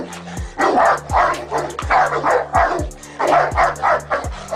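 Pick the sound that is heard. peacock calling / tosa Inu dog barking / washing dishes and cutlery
tosa Inu dog barking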